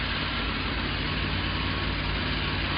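The engine of a 1979 Dodge Lil Red Express pickup truck, fresh from carburetor work, runs at a steady, even idle, a close and loud constant rumble with no voices over it.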